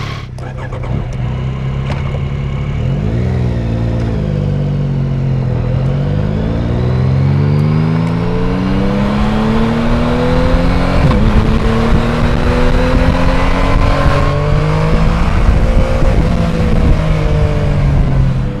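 A 2021 Yamaha MT-09 roadster engine, Euro 5 exhaust, revving up and down repeatedly, loud and close, with rising and falling whining pitch sweeps and a harsh, aggressive exhaust note throughout.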